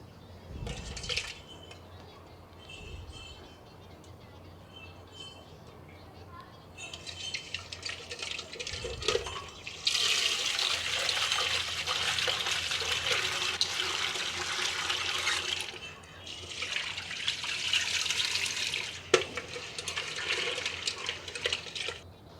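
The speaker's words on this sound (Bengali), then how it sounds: "এই যে মাছগুলো ধুয়ে নেব, পোয়া মাছ লবণ মাখিয়ে রাখছিলাম" Tap water running over salted poa fish being rinsed in a home kitchen, a steady splashing flow that swells louder in long stretches with brief clatters, no talk.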